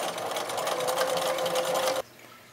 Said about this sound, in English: now we're going to top stitch around it the outside using 1/8 of an inch seam